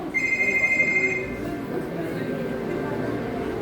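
A telephone rings with a steady electronic bell trill for about a second and a half, loud near the start, then stops while a hum and background murmur continue.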